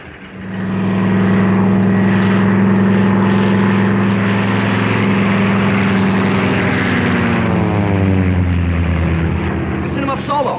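A 1941-era propeller airplane engine drones steadily, loud and close, its pitch sliding upward as it powers up for takeoff, with speech over it.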